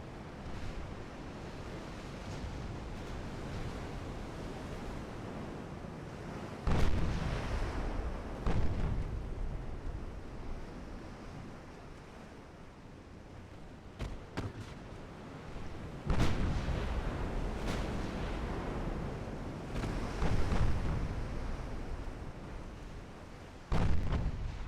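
Battleship guns firing in the naval combat game Ultimate Admiral: Dreadnoughts, several heavy booming salvos spaced irregularly over a steady roar of sea and wind, with no voices.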